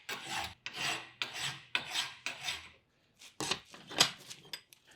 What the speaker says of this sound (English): I only have a 2-inch belt grinder, so I'll have to do it using files.